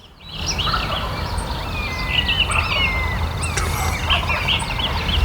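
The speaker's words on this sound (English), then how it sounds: "we heard a couple gobbles" Wild turkey gobbles at first light near a field tree line, several loud rattling calls spread across the stretch with other birds chirping around them and a low outdoor rumble beneath.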